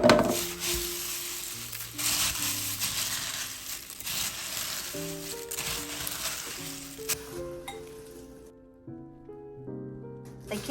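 Cornflakes being stirred into a butterscotch candy mixture, a close dry crunching and crackling that runs under background music and gradually quiets.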